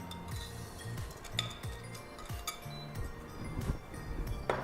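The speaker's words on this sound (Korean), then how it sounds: "잘 섞였으면은 다시 냄비에다가 요거를 담아 주세요" Metal utensils clink against a pot as mixed lemon coconut tart filling is poured back in, a series of close, bright clinks and scrapes in a pastry kitchen, with no talking.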